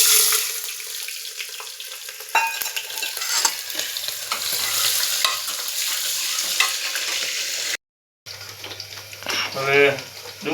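Onion frying in hot oil with cumin seeds, stirred in a pan in a village kitchen; steady loud sizzle with scraping stir strokes, a brief dropout, then renewed bubbling crackle.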